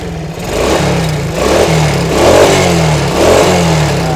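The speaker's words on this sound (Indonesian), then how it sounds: "Motornya di start enak, hidupnya. Motornya masih halus" A Shogun motorcycle engine starts and runs close by, a loud, smooth idle with rhythmic throttle blips rising and falling every second or so, no talking.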